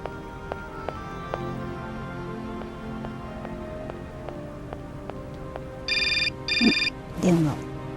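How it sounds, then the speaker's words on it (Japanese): An old telephone rings in Syberia, a short repeating double bell near the end over quiet ambience and scattered taps, followed by a brief chirpy tone. "電話。"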